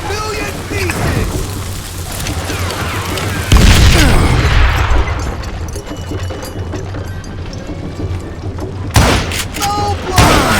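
Gunfire and explosions in the Western shooter game Call of Juarez Gunslinger, a dense roar of shots with a heavy boom partway through and more blasts near the end, loud and continuous, with game voices mixed in.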